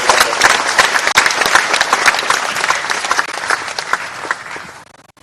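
Loud, sustained applause from an audience at an Indian national highway project inauguration ceremony, many hands clapping densely before tapering off at the end.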